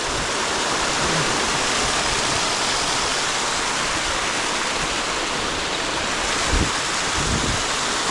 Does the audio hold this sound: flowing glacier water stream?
yes